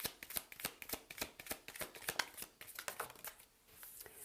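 An Angelic Answers card deck being shuffled, a fast run of crisp riffling snaps and flutters repeating in quick bursts, close and quiet, with a short pause near the end.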